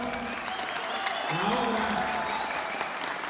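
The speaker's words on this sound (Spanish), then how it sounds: "Adelante y el aplauso." Audience applause at a monumental concert of the son piece Huaraches Azules, a steady wash of clapping from a large crowd while someone speaks briefly over it.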